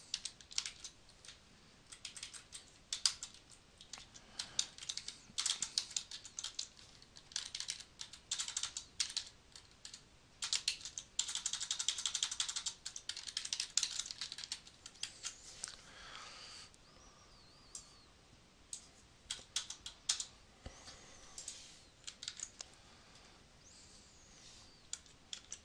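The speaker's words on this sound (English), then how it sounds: "let me just type this in real quick." Rapid, uneven keystrokes on a computer keyboard, typing text in bursts with brief pauses, close and fairly quiet, with no voices.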